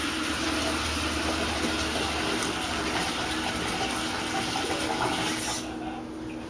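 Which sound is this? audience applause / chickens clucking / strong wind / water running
water running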